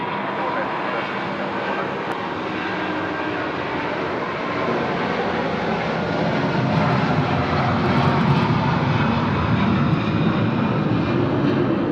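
Airliner landing on runway 34 left at Sydney Airport at night: a loud, steady jet engine roar that swells slightly midway, with air traffic control radio talk running underneath.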